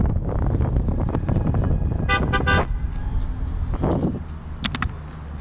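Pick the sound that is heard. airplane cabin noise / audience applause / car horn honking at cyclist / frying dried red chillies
car horn honking at cyclist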